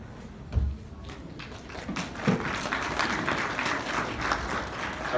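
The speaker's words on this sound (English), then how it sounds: "I appreciate the clapping." An audience at an ICNA convention session claps in a steady, moderate ovation that swells slightly toward the end, with a few louder taps and thumps standing out in the hall.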